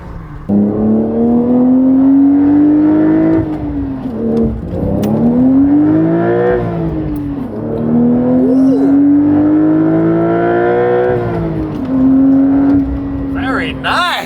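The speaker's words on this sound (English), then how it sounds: "more of that like GT3 exotic sound with this titanium system" Porsche 992 Turbo with a titanium exhaust system and stock downpipes, loud and close, revving in long rising sweeps that fall back and climb again several times, with voices talking briefly under the engine.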